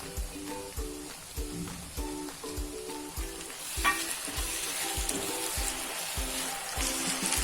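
Chopped tomato goes into onions frying in a pan for a Kathiawadi green chickpea curry, setting off a steady close sizzle with repeated scraping stirs throughout.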